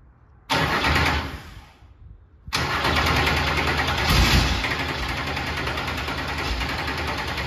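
A Camaro engine cranks briefly, pauses, then cranks again in a long steady grinding whir as it tries to fire, loud and close with no talk.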